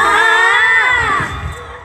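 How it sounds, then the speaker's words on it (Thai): A crowd of teenage fans screams loudly in high-pitched, overlapping shrieks at a flower festival in Chiang Rai, fading into lower cheering toward the end. "ฟังจากเสียงกรี๊ดค่ะ"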